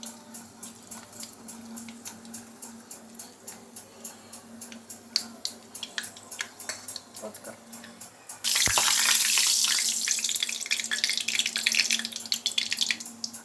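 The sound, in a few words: mustard seeds crackling in hot oil in a pan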